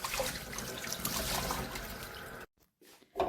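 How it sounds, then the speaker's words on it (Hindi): A grinder is washed by hand under a running kitchen tap, with steady splashing water that stops abruptly, leaving a few faint drips before a brief splash returns. "हाथों हाथ इसको धो लेना चाहिए"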